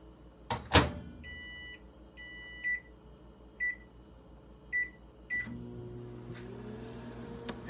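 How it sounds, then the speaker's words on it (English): A microwave oven heating a bacon cheeseburger: a low steady hum with a door clunk near the start, followed by a string of short electronic beeps spaced about a second apart as the timer is set and started. "So I'm gonna crack the microwave."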